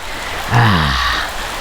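Rain falls outside during outdoor cooking of a Naga-style fish curry, a steady hiss of drops on surfaces, briefly overlaid by a short voiced sound partway through.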